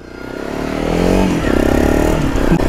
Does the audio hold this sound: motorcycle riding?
yes